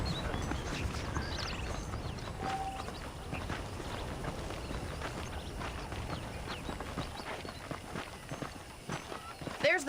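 Horse hooves clip-clop at a walking pace in the Red Dead Redemption video game, fairly faint and blended with game ambience, under steady in-game talking.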